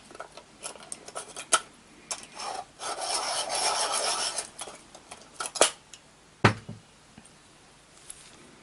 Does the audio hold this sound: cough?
no